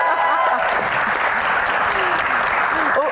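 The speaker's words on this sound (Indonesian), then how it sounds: "Tepuk tangan." Studio audience on an Indonesian Q&A talk show giving loud, continuous applause with some cheering mixed in, steady throughout and tailing off at the close.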